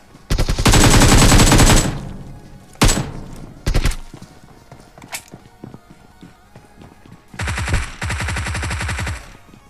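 Rapid automatic gunfire in the mobile battle-royale game PUBG Mobile, two loud sustained bursts at the start and end with a few sharp single shots between, no talking.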